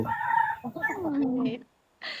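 A rooster with a slightly hoarse, raspy crow gives one drawn-out call that rises and then falls, heard up close. A short, brighter squawk follows after a brief pause.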